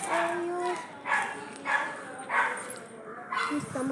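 A dog gives several short barks and yips at a steady pace, fairly close, with a person's voice in the background.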